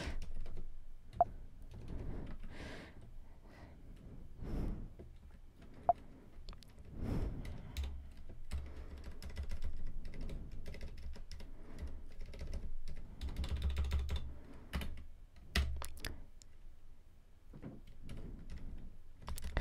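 Keys tap on a computer keyboard as a command is typed, steady close clicking with brief pauses, sustained throughout without speech.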